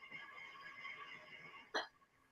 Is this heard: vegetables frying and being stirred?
no